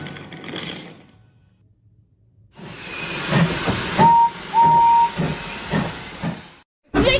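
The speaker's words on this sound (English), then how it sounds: "Donald, you shunted the wrong train!" A toy steam train hisses in loud bursts of steam, with two short whistle-like tones in the middle, after a faint quiet stretch, then a sudden loud burst at the very end.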